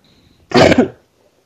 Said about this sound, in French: Et je tousse depuis que j'ai demandé la session, je fais que tousser.